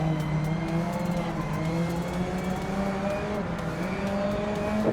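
Racing cars in Grid Legends roar steadily throughout, engine notes rising and falling with gear changes and occasional tire squeal, loud and continuous with no talk.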